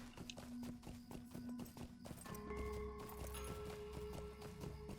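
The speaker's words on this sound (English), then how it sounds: "Look at that horse right there." Hooves clip-clop steadily from a horse in the Lord of the Rings Online game, a regular trotting patter of sharp knocks, moderately close, with a sustained tone entering halfway.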